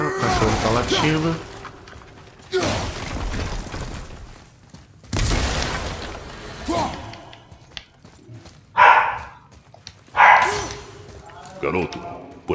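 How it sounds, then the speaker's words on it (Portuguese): A dog barks in the God of War video game, two sharp barks standing out late among loud game sounds, with a person talking over much of it. "o cachorro tá latindo"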